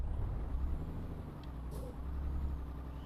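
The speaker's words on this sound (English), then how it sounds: "I've always loved the sound of the Mercedes." A Mercedes truck in Euro Truck Simulator 2 gives a low, steady engine rumble, broken by one short hiss of air brake release midway through.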